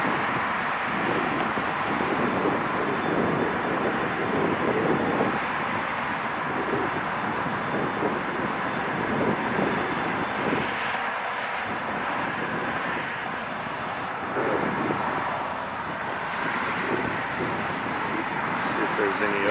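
An airliner in a special Florida One livery, arriving from Sacramento, roars steadily in a broad continuous engine rush that holds its level throughout, with no clear gaps or change in distance.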